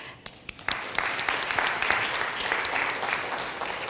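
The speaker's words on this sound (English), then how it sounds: "And a round of applause" A conference-room audience bursts into applause, a few isolated claps first and then a steady, dense clatter of many hands that holds evenly at moderate volume.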